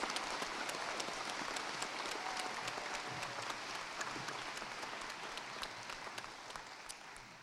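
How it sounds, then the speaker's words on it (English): Applause from the audience at a college graduation ceremony, a continuous, even roar of many hands clapping in a large hall, steady and unbroken, tapering slightly at the end. "we could have a big round of applause for the Deck Psych programme"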